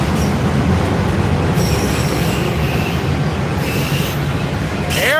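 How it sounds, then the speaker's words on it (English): A freight train rolls steadily through the Dalton rail yard between signal towers, a loud continuous rumble of wheels on rails with high squeals of metal rising through the passage. "That's a double rail car."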